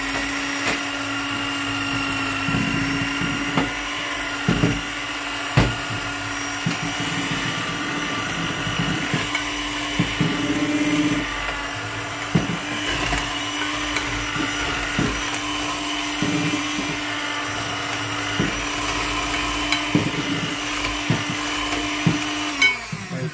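A loud electric blender runs continuously for over twenty seconds, mixing crêpe batter while water is added, its steady motor drone broken by scattered clicks and knocks. No voices are heard over it.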